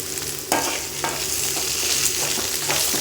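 Papad and tamarind sautéing in hot oil in a home kitchen, a steady close sizzle with scraping stir strokes at about half-second intervals and no talking.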